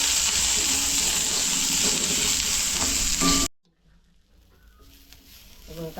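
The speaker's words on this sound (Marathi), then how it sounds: "तेल तापले, आता कांदा टाकते मी." Onions frying and crackling in hot oil in a pan as they are stirred, a loud dense sizzle for about three and a half seconds that cuts off abruptly to near silence with faint clinks.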